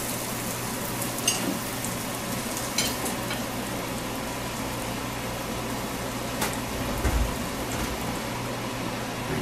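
Tomato cooks in a pan after tilapia, a steady quiet sizzle and fry with occasional small crackles and pops throughout, no voices.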